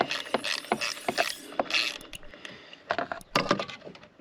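A ratchet tool clicks in quick irregular bursts while unscrewing a VW water pump cover whose screw is driven into plastic; close, crisp mechanical ticks with brief pauses and no talking.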